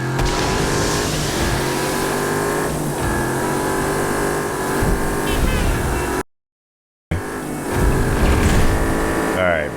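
Race cars in the video game Wreckreation roar continuously with revving engine tones and shifting pitch, loud and dense, broken by a brief cut of silence before the engines resume.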